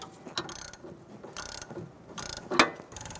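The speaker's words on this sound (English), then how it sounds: "we're going to tighten down our sway bar link" Ratchet wrench tightening a sway bar link nut on a 2000-2007 Ford Taurus: close, quick bursts of rapid clicking, several short runs separated by brief pauses.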